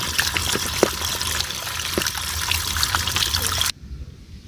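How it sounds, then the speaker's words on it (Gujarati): Running water streams and trickles over prickly pear fruits being washed, a steady splashing flow with small drips and knocks, close by, cutting off abruptly near the end. "હવે આને આપણે ધોઈ નાખવાના."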